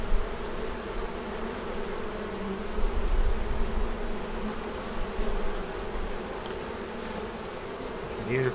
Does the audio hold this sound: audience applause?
no